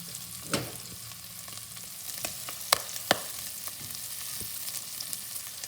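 Chopped celery fries and caramelizes in a pan for a celery soup, a soft continuous sizzle with occasional sharp pops and light utensil clicks, fairly quiet and with no talking.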